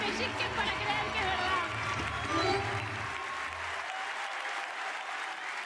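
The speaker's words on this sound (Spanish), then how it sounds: "renovamos el aplauso a los campeones de anoche" Audience applause for the champions at the closing final of the Mundial de Tango, a dense sustained clapping from a large crowd that thins out over the last seconds, with a voice over it.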